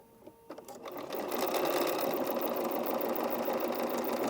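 A sewing machine starts up and settles into a steady, fast mechanical whir while stitching a cap appliqué, quiet and close, preceded by a few soft handling sounds.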